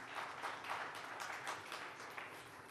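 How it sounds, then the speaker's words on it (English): Audience at a conference session claps in a continuous, moderately distant round of applause, with individual claps faintly discernible through the wash. "Let's give them a warm round of applause"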